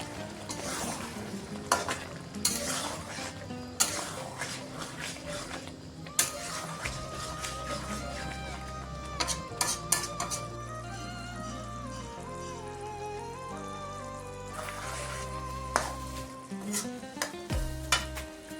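Chicken liver with coriander leaves and green chili sizzles in a pan as a spoon stirs and scrapes, steady frying hiss with occasional clinks, partly under background music.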